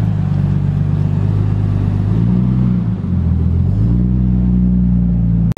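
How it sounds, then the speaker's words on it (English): A Nissan Skyline engine warms up at a deep, loud idle, rising in a couple of revs toward a set rev limiter and settling back, steady and close with no talk. "right now Gary's warming up the Skyline. He's setting his BR rev limiter."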